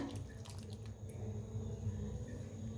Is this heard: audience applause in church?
no